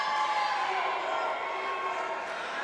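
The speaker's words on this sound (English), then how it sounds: "I think that might be the loudest crowd I've ever heard at a Derby game." A roller derby game crowd cheering loudly, a dense and steady roar filling the whole space with no breaks, probably with voices mixed in.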